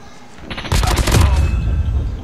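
A rapid burst of automatic gunfire kills an enemy in Call of Duty Mobile, loud and close, cracking for about a second before settling into a lingering rumble.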